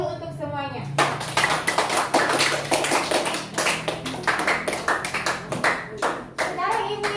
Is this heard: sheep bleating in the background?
no